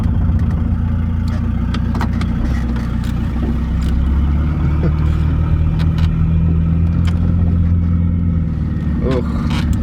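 Volvo 940 turbo beater driving with a steady low engine drone and road rumble, with intermittent clunks and rattles from the front end, a person talking over it.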